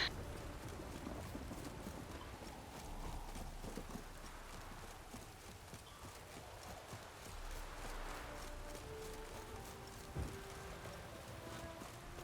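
Horse hooves clip-clopping in the video game Witcher 3, a quiet steady rhythmic trot under faint game ambience, with a brief whinny-like sound near the end.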